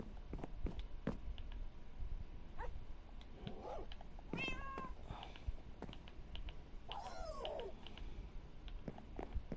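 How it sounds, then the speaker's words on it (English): A Minecraft kitten mews a few times, short high cries rising and falling, over soft clicks and light tapping in the background. "Hear that kitten meowing."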